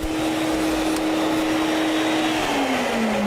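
Sirena water-filtration vacuum cleaner running loud and steady close by, a constant whirring motor whine that drops slightly in pitch near the end.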